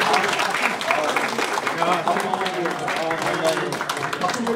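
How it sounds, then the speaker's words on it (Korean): Warm applause from the audience at a policy forum: steady, dense clapping from a crowded hall that keeps up evenly from start to finish, with some voices mixed in. "다시 한번 뜨거운 박수 부탁드립니다."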